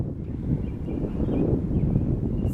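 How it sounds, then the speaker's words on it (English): Wind blowing outdoors in a garden, a steady, loud low rush buffeting the microphone for a few seconds, with no voices. "I don't know, it's windy."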